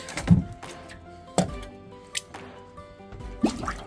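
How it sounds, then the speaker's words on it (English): Water drains and drips from a container after rhubarb fruit has been washed, with scattered wet drips and squishy splashes at irregular intervals, fairly close and otherwise quiet. "we're gonna let the water out"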